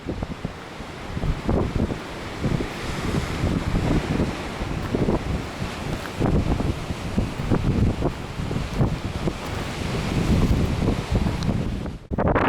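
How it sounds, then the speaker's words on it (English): Strong wind buffets the microphone on a coastal hiking trail in Royal National Park, a steady rumbling gusty roar that fills the whole recording with no talking. "It's the wind again, sorry."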